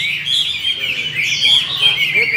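Captive hwamei, Chinese melodious laughingthrushes raised from chicks, sing a continuous, bright, warbling song up close, with rapid varied phrases running throughout and a low background hum beneath.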